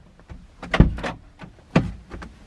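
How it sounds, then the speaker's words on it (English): The front door of a Ram Promaster 2500 van is opened with a couple of close, distinct latch clunks and mechanical rattles, heard alone in a quiet setting. "let me open the front passenger driver door."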